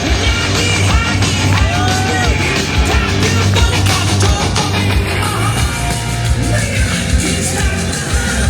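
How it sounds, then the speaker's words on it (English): A large crowd at a powerlifting competition roars continuously with cheering and scattered shouts, dense and loud throughout with no pauses. "Give me a round of applause for the powerlifters."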